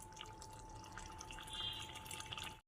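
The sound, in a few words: water added to lentil and water spinach curry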